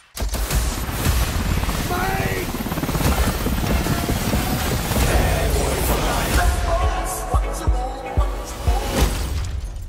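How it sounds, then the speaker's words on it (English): Helicopter rotor noise in an action movie trailer for Bad Boys for Life (2020), a loud continuous mechanical roar mixed with music, impacts and dialogue bursts that thin out near the end. "Where the hell are you getting all these helicopters?"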